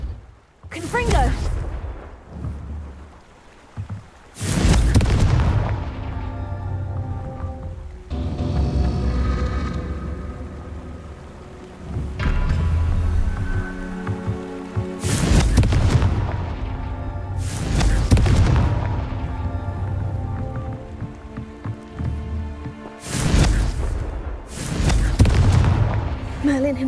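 Confringo blasting spells in Hogwarts Legacy set off a series of heavy booming explosions, roughly eight large blasts spaced a few seconds apart, each with a rumbling tail, among other game effects and a voice casting spells.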